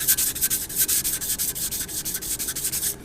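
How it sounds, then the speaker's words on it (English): Concrete being hand-sanded with fresh silicon carbide abrasive paper, a close, loud, rhythmic scratching of quick back-and-forth strokes repeated steadily with no talk. "put a fresh piece of silicon carbide abrasive paper and keep sanding until I get a nice uniform"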